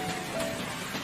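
Light night rain falling on a town, a soft continuous patter of drops, even and gentle throughout.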